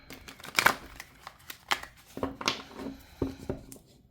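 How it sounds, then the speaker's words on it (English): A deck of tarot cards is shuffled by hand during a reading, giving a series of quick, crisp riffling and slapping bursts at irregular intervals, close up and without speech. "my card shuffling skills were never that great"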